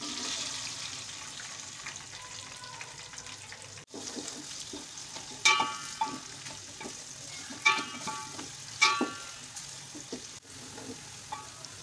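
Finely julienned onion frying in hot oil with whole garam masala spices, a steady sizzle throughout with a few louder crackling bursts as the pan is stirred.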